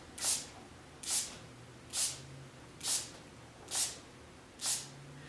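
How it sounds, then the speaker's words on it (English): Six short, evenly spaced hissing sprays from a pump spray bottle misting paint onto paper, each a brief puff of mist with quiet pauses between. "Start spraying off the side to get it pumped and ready to go when it's a new bottle."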